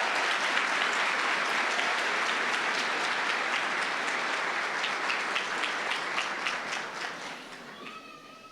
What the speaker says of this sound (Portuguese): Aplauda o Senhor pela vida dele.